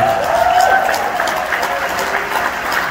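A live concert crowd at the Paramount, Long Island, applauds steadily for a few seconds after a tribute, a broad wash of clapping with a few cheers mixed in.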